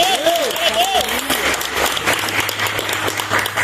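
A church congregation claps during worship, a dense and lively round of hands beneath a singing or speaking voice near the start.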